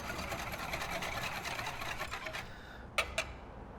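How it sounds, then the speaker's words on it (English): Kosher salt whisked into a liquid brine for turkey, a steady scraping, rattling swirl for a few seconds, then two sharper clinks as the whisk taps the container. "Let's whisk that in so it can start to dissolve."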